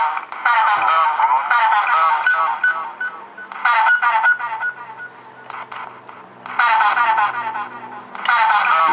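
Sound Bender synth toy with its echo effect switched on, giving bursts of warbling, honk-like electronic tones that repeat and trail off, loud and close, with no talking over them.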